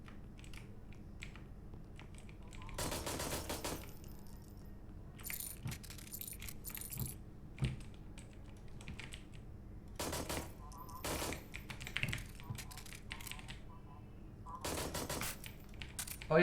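Guns firing in the video game HOLE, a few short, loud bursts of rapid shots separated by quieter stretches filled with soft clicking and handling noises.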